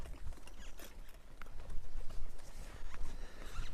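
Horse hooves clip-clop at a steady walking pace, fairly close, with light background rustle and no talking.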